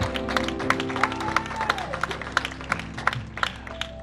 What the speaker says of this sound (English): give the Lord a clap of worship